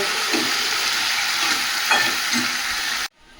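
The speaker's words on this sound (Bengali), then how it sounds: "এইভাবে অল্প আঁচে কষিয়ে দেব" Masala sizzles and sputters in a pan over low heat, a dense continuous frying hiss with soft stirring scrapes, close by and alone, cutting off abruptly at the end.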